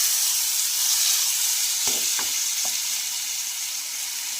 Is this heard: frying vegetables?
yes